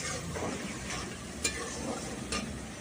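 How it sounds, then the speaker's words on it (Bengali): A ground mustard and poppy seed paste with salt and turmeric lightly frying in a pan for mustard hilsa curry, giving a faint, steady sizzle with a few soft stirring scrapes and no talking. "দিয়ে মশলাটা একটু ভাজা করে নেব হালকা করে"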